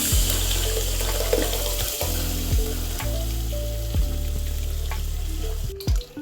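Water pours steadily into a hot pot of dal with fenugreek and tomato, sizzling and splashing over a low, constant hum, with no talking.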